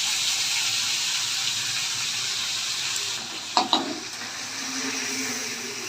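Green pea paste frying in a pan after a hing tempering, producing a steady, close hissing sizzle with a couple of sharp spatula knocks partway through.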